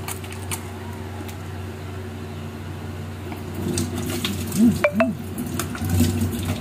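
Water runs steadily from a tap while a face and neck are washed during a skincare routine, with a continuous splashing flow and a few louder splashes and hand movements toward the end.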